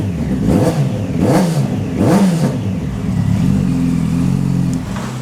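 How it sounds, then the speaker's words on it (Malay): A Kawasaki Ninja 1000 SX inline-four engine, already warmed up, revs up and down in three quick blips, each rising and falling, then holds a steadier higher rev, loud and close with no voices. "Okey, jom kita belanja bunyi inline 4."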